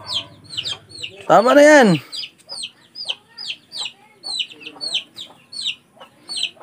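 Chicken clucks in short repeated bursts during a fight with a duck, with a loud rising-and-falling squawk near the start and a person speaking briefly over the commotion.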